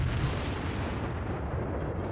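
Heavy naval gunfire from a Japanese Kongō battleship in World of Warships, a dense continuous rumbling boom that fills the short stretch loudly without pause.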